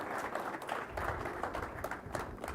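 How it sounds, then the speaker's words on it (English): Applause from a morning gathering as a speaker is welcomed, a fairly quiet, distant spread of clapping that holds steady throughout with some faint low room noise. "let's give a round of applause to Bill Hancock"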